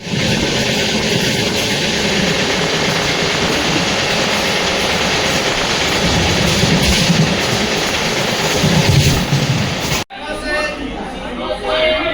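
A Solapur–Hassan Express passenger train rumbles along with a steady, loud roar from inside a general-class coach, with passengers chattering underneath. The noise cuts off abruptly near the end, and a quieter, different background follows.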